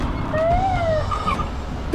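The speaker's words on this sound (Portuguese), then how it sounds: "É muito da hora essa sirene." A police car siren from a street-racing video game wails in a rising and falling sweep. It plays loud and close over a rumbling engine and road noise.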